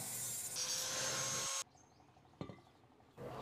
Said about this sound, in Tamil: இந்த பைப்பையும் நம்ம கட் பண்ணி எடுத்துடலாம்.